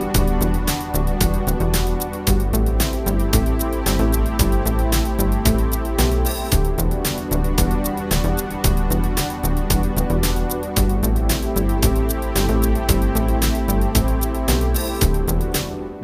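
Verse of a cover version of a song: a dense, loud electronic arrangement with a steady beat, a deep bass line and synth parts that repeat in a continuous four-bar cycle, with no voices.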